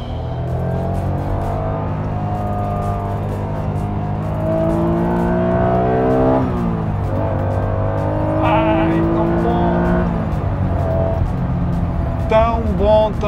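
A yellow Honda NSX engine revs hard on a track, holding high rpm and rising and falling through gear changes from corner to corner, loud and close with a faint tire squeal near the end and someone talking over it.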